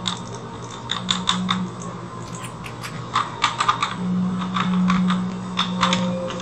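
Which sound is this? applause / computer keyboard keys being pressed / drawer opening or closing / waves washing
computer keyboard keys being pressed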